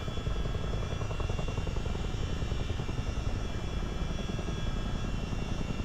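A CH-47 Chinook twin-rotor helicopter flies low level, its heavy rotor thump and turbine whine forming a steady, loud, dense drone that never lets up, heard from close by inside or near the aircraft.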